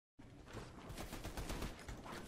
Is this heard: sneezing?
no